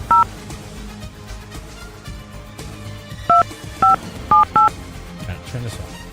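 Cell phone keypad dialing tones: one short dual beep, a pause, then four quick beeps in a row, loud and close over murmuring background sound.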